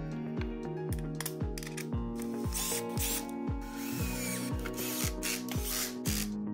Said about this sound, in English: Once all four mounting screws are in place, you can tighten them.